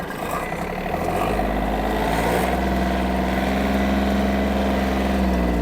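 Yanmar F-200 mini tractor engine running steadily, a continuous low diesel-like drone with a rise in level partway through, close by and without talk.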